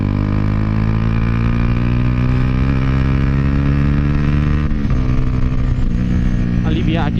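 A Dafra Next 250 motorcycle fitted with a Jeskap GP Carbom exhaust roars loudly and continuously up close. Its throaty engine note holds steady, with slight rises and dips in revs throughout.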